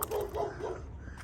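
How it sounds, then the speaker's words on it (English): A dog out on a walk route barks a few times in quick succession, moderately close, short gruff woofs that fade into quiet ambient noise. "A dog barking at me."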